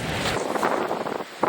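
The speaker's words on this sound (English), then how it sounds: "as you can probably hear, the wind has severely picked up by this point" Strong wind on a Seaford Bay beach in the UK buffets the microphone with a brief, loud, uneven rush and low rumble, heard alone.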